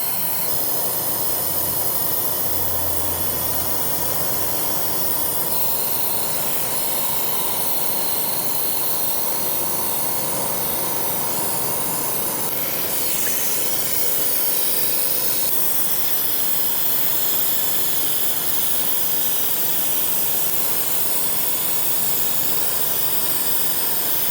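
A milling machine cuts flutes into a custom 7mm PRC rifle bolt in a gunsmithing shop, producing a loud, continuous hissing roar that holds steady throughout with slight shifts in pitch.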